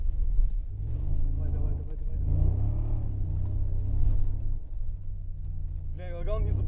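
A Mercedes-Benz G-Class engine rumbles steadily on a rally course, a low droning growl with a brief rise in revs, while someone talks over it throughout.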